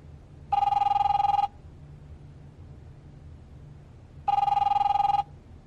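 A telephone rings twice in The Wolf Among Us video game, two loud electronic bursts, each about a second long, separated by a long quiet gap.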